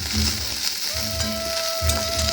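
Fish fries in hot oil with a continuous, close, even sizzle, plus a faint steady hum underneath.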